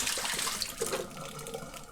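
Dirty water poured from a VAX carpet cleaner tank into a kitchen sink, a steady splashing gush close by that runs throughout without pause.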